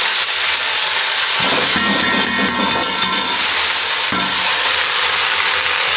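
Red amaranth greens hit hot mustard oil already frying with chillies, setting off a loud broad sizzle, with bursts of stirring and scraping in the pan. No voices.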